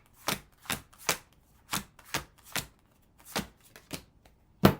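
A deck of playing cards is shuffled by hand in a quick series of about ten soft, crisp riffling snaps with short pauses between them, close and fairly quiet.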